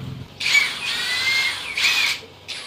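A KEELAT 18V brushless impact driver drives a screw, giving two loud whirring, rattling bursts with a short pause between and a brief third burst starting at the end.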